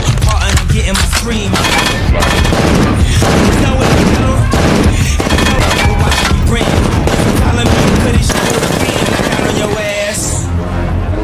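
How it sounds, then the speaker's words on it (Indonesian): Rapid gunfire from a film scene of a marksman shooting at a prepared target, loud, dense bursts of shots cracking in quick succession throughout, heavily layered with booming impacts and no talking. "Lalu Deadshot pun langsung menembak target yang sudah disediakan oleh Colonel Fleck dengan sasaran tepat dan akurat."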